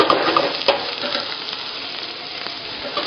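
Soup vegetables with a little corn and yellow pepper, a mirepoix softening in a pot, sizzle loudly while being stirred, a dense close hiss with occasional scrapes and no talk.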